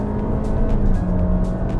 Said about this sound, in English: the engine is working a little harder to compensate for the gearbox